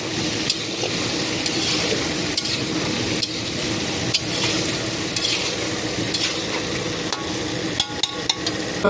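A spoon stirs boiled banana stem frying with turmeric and green chili in a wok, giving repeated scraping strokes over a steady close sizzle, with no talking.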